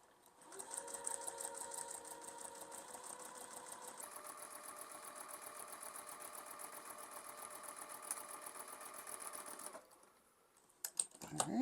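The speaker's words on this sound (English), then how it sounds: "So I'm sewing a 1/4 inch seam to the other side of this line." A sewing machine stitches a quarter-inch seam on a quilt block, a steady fast close whirring hum that speeds up partway, runs for about ten seconds, then stops, with a few faint handling sounds at the end.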